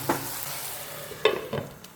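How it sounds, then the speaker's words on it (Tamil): A spoon stirs tomato, onion, ginger and garlic masala in a hot pan, giving a few close scraping strokes over a soft background sizzle. "இதை நல்லா கிளறி விட்டு"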